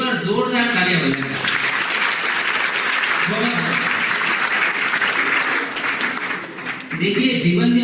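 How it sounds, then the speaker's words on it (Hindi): Strong, sustained applause from an audience at a Hindi devotional poetry recital, a dense wash of clapping filling several seconds, with some crowd murmur at the start and end. "एक बार जोरदार तालियां बजाएं।"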